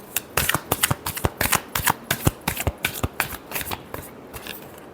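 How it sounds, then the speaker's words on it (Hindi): Tarot cards are shuffled by hand in a quick run of crisp riffling flutters and slaps. The sound is close and fairly loud, then it eases off toward the end. "Last shuffle."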